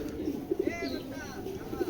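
Racing pigeons coo close by in rhythmic, throaty pulses that swell and fade several times, with faint higher chirps over a steady background murmur.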